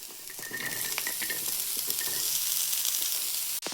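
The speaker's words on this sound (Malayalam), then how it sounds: "ഇതിലേക്ക് അരിഞ്ഞു വെച്ചിരിക്കുന്ന പടവലങ്ങ നമുക്ക് ചേർക്കാം." Chopped ridge gourd sautés with onion, green chilli and turmeric for thoran, a loud, continuous close sizzle with a few faint scraping stirs and a brief clatter at the end, no speech.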